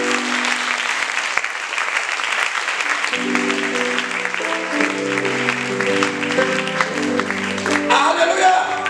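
A church congregation claps and cheers together to acclaim the Lord, a dense steady wash of applause throughout, with an organ or keyboard playing chords underneath from midway on.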